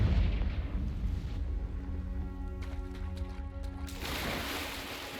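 A Confringo fire spell bursts in the Hogwarts Legacy game, a loud rumbling explosion at the start that decays into a low roar, with a chiming magical tone and another blast near the end.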